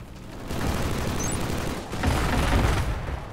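Turret gunfire in the video game Killzone Shadow Fall during an online Warzone match at the Stormgracht: loud, sustained bursts of rapid automatic fire with a brief pause midway before the barrage resumes, close and without talk.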